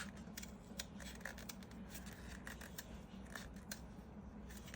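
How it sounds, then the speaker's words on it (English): Blunt scissors snip embroidery thread during cross-stitch, a quick series of faint, close, irregular crisp cuts over quiet room noise, with no voices. "Oh, these scissors are getting terrible."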